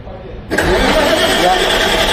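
A 1000 kVA diesel generator engine cranks into life after a short quiet lead-in, then runs as a loud, steady mechanical roar; speech is also present.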